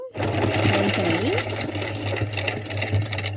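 An Usha Janome sewing machine stitches zigzag with maroon thread, giving a loud, steady mechanical whir with a fast rhythmic clatter that runs close and continuous throughout.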